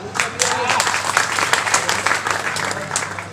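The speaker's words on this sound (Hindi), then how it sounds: "पर तालियों का मंद शोर नहीं होना चाहिए, शोर थोड़ा अधिक हो तालियों का" Loud, dense audience applause fills a live comedy show in Narwar, sustained clapping from a crowd throughout with no pauses.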